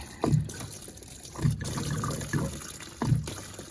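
Fuel draining from a Toyota MR2 GT Turbo into an oil pan bucket, a steady close trickle with a few louder splashy bursts.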